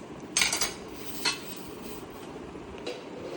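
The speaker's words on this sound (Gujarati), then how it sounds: "એ ચમચો પડી" Metal spoon dropping among cutlery and dishes at a home meal, a brief clatter near the start, another clink a moment later and a faint tap near the end, under quiet room noise.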